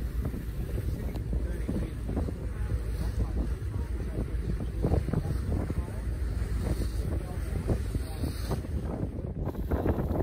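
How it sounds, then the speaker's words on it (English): Blustery wind on Sydney Harbour during a sailboat race buffets the microphone in a steady, rough roar, with water and boat noise mixed underneath throughout. "It was a blustery day on Sydney Harbour"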